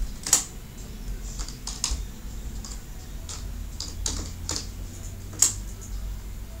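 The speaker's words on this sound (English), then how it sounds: "You actually have to type in a username and password" Typing on a computer keyboard while logging in to a Raspberry Pi in a school setting: scattered, quiet key clicks in an irregular rhythm over a low steady hum, with no talking.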